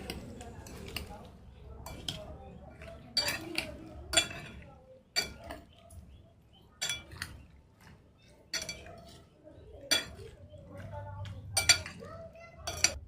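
Kinilaw fish with white sugar and vinegar is stirred in a bowl, producing intermittent clinks and scrapes of a utensil against the bowl, close and fairly quiet, with soft background noise between strokes.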